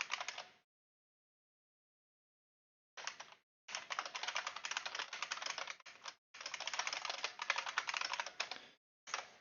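Computer keyboard typing while writing code, rapid dense clicking in bursts separated by pauses, close and fairly quiet with no talk.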